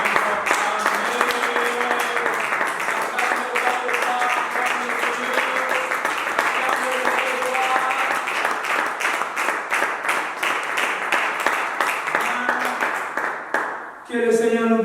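A church congregation applauds and cheers together in a sustained, loud burst of clapping that fills the space, with voices mixed into the noise, before it abruptly dies away near the end.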